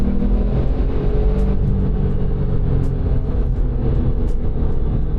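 A 996-generation Porsche 911 Turbo accelerates hard, its engine a loud, deep continuous roar heard from inside the car with rumble and road noise throughout.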